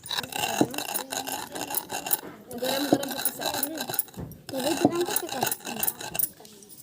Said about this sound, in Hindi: मैं हेला बेलना चौकी में करके पीस लूँ